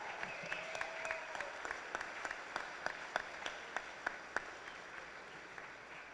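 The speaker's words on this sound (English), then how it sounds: "How about one more round of applause for the class of" Applause at a Texas High School Football Hall of Fame induction for the class of 2024, faint and distant crowd clapping with a few sharper individual claps standing out over a steady hall murmur.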